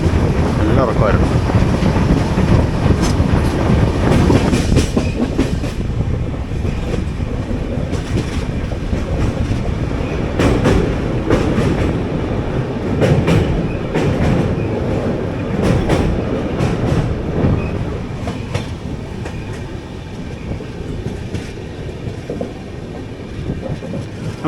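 Train 16331 Mumbai CSMT–Trivandrum Weekly Express running, heard from aboard as a loud, steady rumble with clickety-clack of wheels on rail joints and some wind noise throughout.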